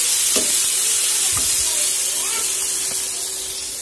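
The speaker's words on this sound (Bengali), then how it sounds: "তো এগুলাই আমি ভাজা করতেছি" Dudhkushi dumplings fry in a pan with a continuous bright sizzle and hiss, broken now and then by soft stirring knocks against the pan, close and fairly loud throughout.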